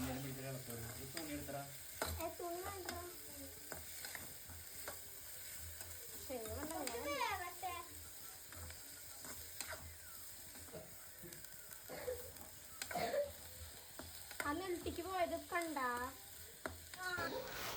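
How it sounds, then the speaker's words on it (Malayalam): Pav bhaji is stirred in a frying pan, with quiet, repeated scraping and a soft sizzle, broken now and then by brief squeaky tones. "നന്നായി ഇളക്കുക"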